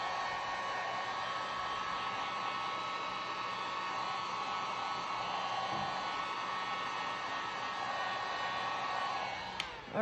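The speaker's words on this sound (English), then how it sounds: "Hit them one more time with the heat gun." Heat gun blowing hot air over resin flower blooms, a steady close whooshing roar like a hair dryer running continuously, with a faint click near the end.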